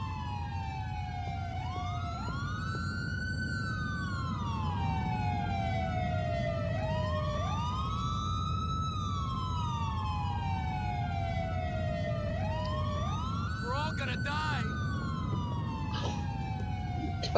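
A police car siren from the GTA 4 video game wails in long rising and falling sweeps, repeating about every five seconds over a steady engine-like rumble, loud and continuous throughout.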